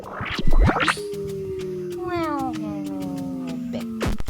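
Cat in the video game Cat Bird lets out a long, drawn-out meow that slides slowly downward in pitch, close and clear, followed by short sharp sounds near the end.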